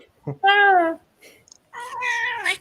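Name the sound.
cat meowing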